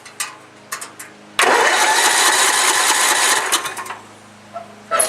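Tecumseh 10 horsepower engine on a lawn mower cranks over without starting: a loud, steady churning starter grind runs about three seconds, then cuts off, with scattered clicks and handling noise before and after.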